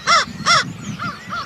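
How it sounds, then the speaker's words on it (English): Four harsh crow caws in quick succession, the first two loud and close, the last two softer. "crows caw and purr"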